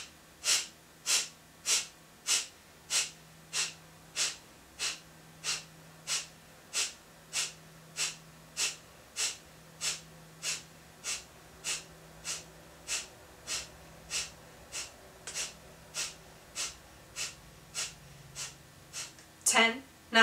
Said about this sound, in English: Continue the breathing exercise.